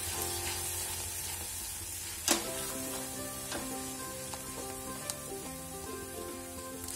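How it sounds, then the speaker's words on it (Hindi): Vegetables sautéing in a pan for cottage cheese curd korma, a steady loud sizzle with a few sharp stirring clinks, no talking. "और इसे सोते कर लेंगे।"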